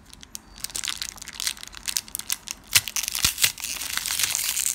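A Pokémon card booster pack is torn open, a close, loud run of crinkling foil and ripping plastic that grows busier and denser toward the end, with no talking.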